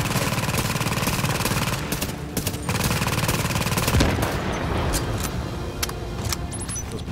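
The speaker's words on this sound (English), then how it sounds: "Hopefully my little turret down there should help me out." An automated turret in the video game The Division fires rapid bursts of gunfire, and the shots rattle over a constant engine-like background din.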